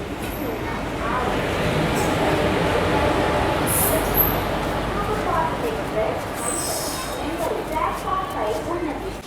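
The Krishna Express, ICF coaches hauled by a WAP 4 electric locomotive, runs alongside on the next track. It makes a loud, steady rumble and clatter that lasts throughout, and voices are faintly mixed in.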